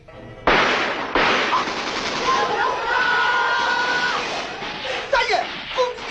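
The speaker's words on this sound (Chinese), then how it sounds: "攻击的机枪把威虎营给封住了！" Machine gun fire in a 1970 Chinese opera film battle scene: sharp blasts open into a sustained roar of firing and commotion, with shouting voices mixed in near the end.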